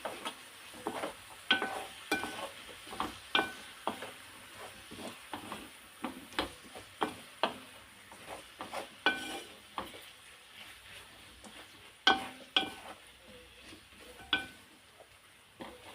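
Spoon clinking and scraping in a pot while stirring Moroccan chicken and vegetable tagine with spices, a steady run of sharp, close knocks and scrapes with no talk.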